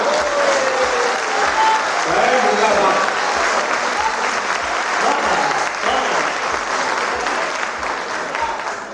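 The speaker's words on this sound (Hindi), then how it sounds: "तालियां" Audience applause at a Hindi poetry recital (kavi sammelan), continuous crowd clapping with a steady rhythmic beat underneath and a voice speaking over it.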